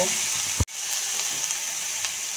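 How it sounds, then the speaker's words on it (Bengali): Capsicum, carrot and cabbage stir-fried in a pan for a veg momo soup, a bright steady sizzle with a brief knock of the spatula partway through, then the hiss continuing alone. "ক্যাপসিকামটা দিয়েও 1 মিনিট মতো একটু নাড়াচাড়া করে নেব।"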